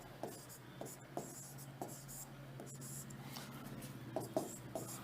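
Chalk or pen writing on a board during a Hindi class, soft scratchy strokes in short irregular bursts under a teacher's quiet speech.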